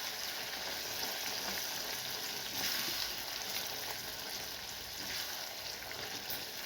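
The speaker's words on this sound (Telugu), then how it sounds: "ఈ వేడి నూనెలోనే ఇది చాలా బాగా మరిగిపోతుందండి." Gongura pickle sizzles gently in hot oil in a pan after the gas is switched off, a soft, steady, close hiss that continues evenly with no talking.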